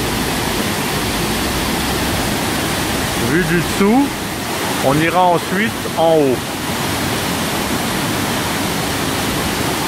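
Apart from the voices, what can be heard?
Baume-les-Messieurs waterfall in the Jura, France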